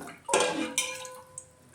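Water poured into a rice pot for bagara rice (spiced rice fried with curry leaves, mint and coriander), a short close splashing burst that rushes in, tapers, then briefly surges again before trailing off into faint drips.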